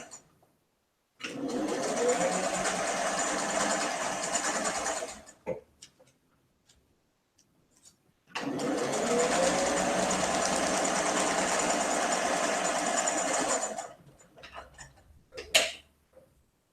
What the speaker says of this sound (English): And I'm still sewing my Mississippi block.